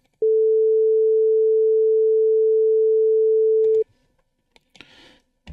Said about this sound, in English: You can see the sine wave move.